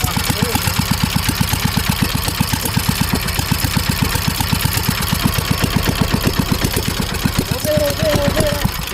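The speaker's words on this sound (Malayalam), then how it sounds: "അങ്ങനെ നമ്മുടെ ഓട്ടോ എഞ്ചിൻ ഏരിയേറ്റർ മെഷീനായിട്ട് നമ്മൾ കൺവേർട്ട് ചെയ്തെടുത്തിട്ടുണ്ട്" An auto-rickshaw engine converted to run a fish pond aerator chugs steadily at idle, a fast even put-put pulse close and loud throughout, with faint voices under it.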